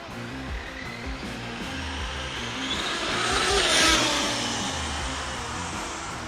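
A Traxxas UDR 6s RC truck driving at a jump spot, its electric motor whining steadily and swelling louder as it passes close by in the middle, tires rushing over dirt.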